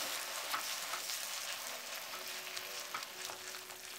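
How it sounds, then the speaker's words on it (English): Tomato puree sizzles steadily in a kadai while being stirred, a continuous close frying hiss with faint scraping strokes throughout and no voices. "Now we will add the tomato puree and mix well and cook until the tomatoes are completely cooked."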